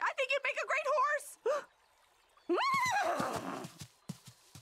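Cartoon children take turns imitating a horse's neigh and whinny with their voices, giving several short, bright bursts followed by a longer drawn-out neigh, close and loud.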